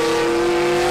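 Race cars lap the circuit at the Le Mans Classic, a loud, steady engine drone with a sustained tone and no pause, close and dominating.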